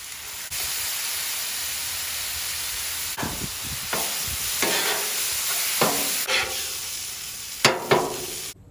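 Loose meat sizzles steadily on a hot Blackstone griddle while sauce and mustard are mixed in, with a spatula scraping in irregular strokes over the constant frying hiss.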